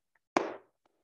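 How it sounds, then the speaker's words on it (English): A single soft flamenco palm clap (sordas), cupped palms pressed together, giving one short muffled pat in otherwise near silence. "Clap and just press your palms together."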